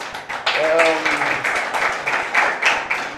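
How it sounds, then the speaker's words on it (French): Studio audience applause at a French children's eloquence TV contest continues as a steady wash of clapping, with a voice speaking over it. "Féliciter, vous applaudir."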